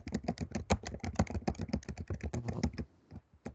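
Rapid, continuous typing on a computer keyboard, with dense clicking keystrokes at close range that pause briefly near the end before a couple more taps.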